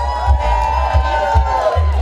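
A crowd cheering and whooping at a send-off for the Antigua Island Girls rowing team, loud excited voices over a thumping low beat, with little distinct clapping.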